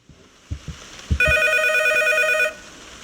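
Telephone ringing in the horror video game P.T.: a few soft footsteps, then a loud, close electronic ring that sounds for about a second and a half before cutting off.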